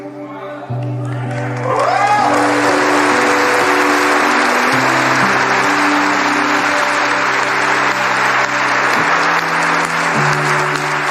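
Congregation applause during a sermon by a preacher, a loud, dense wash of clapping with some cheering, sustained over steady keyboard chords, with a voice briefly heard at the start.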